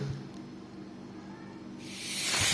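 Pressurized water hisses steadily from a cracked cold water pipe fitting during a leak check in a home in Istanbul, quiet at first and then swelling into a loud, broad spray as the water is turned on.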